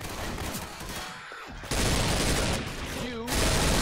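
Rapid gunfire bursts in the zombie shooter Left 4 Dead 2, a loud, dense, continuous clatter of shots that jumps even louder partway through, with a brief dip before.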